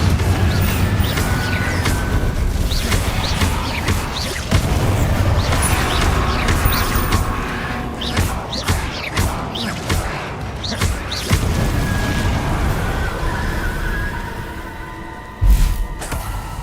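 Repeated blasts and crashes of the Confringo explosive spell in the Hogwarts Legacy video game, loud and dense in a busy combat scene, with sharp bursts and thuds spread throughout and a heavier hit near the end, under a voice speaking.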